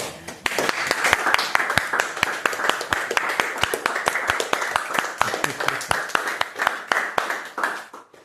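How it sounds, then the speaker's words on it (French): A church congregation claps in a steady, rhythmic beat, sharp hand claps repeating evenly and close for several seconds, with a few voices faintly mixed in. "Si tu es content d'être là, applaudis alors pour le Seigneur"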